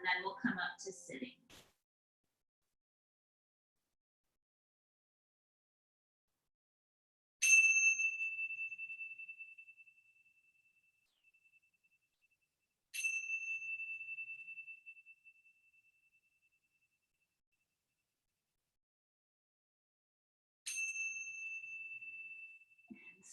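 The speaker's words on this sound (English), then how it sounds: "listen for the bell to ring 3 times" A mindfulness bell rings three times during a family yoga session: three clear, bright strikes several seconds apart, each ringing out and fading slowly, with a brief stretch of talk at the very start.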